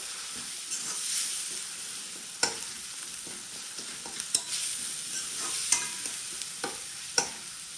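Masala frying in a pan for fish curry, with a steady bright sizzle and hiss under sharp scraping strokes of a spoon stirring at irregular intervals, close and without speech.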